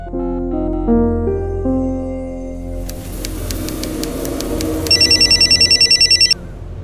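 A telephone rings during an outgoing call: steady repeated electronic ringback pulses, close and fairly loud, following a short musical tone phrase, with no talking.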